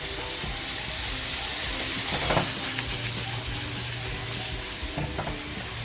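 Chicken tossed in a hot pan for butter chicken, giving a steady close sizzle and frying hiss with a few scraping stirs and clatters of the pan, no talk.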